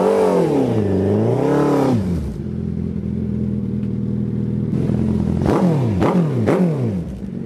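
A 2009 Suzuki GSX1300R Hayabusa motorcycle engine revs loudly up and down at close range, then settles into a steady idle before a few sharp throttle blips near the end.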